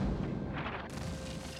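A replica cannon or mortar built for a frontier-fort film set fires, a loud, heavy boom filling the moment and rolling on as a dense, rumbling wash.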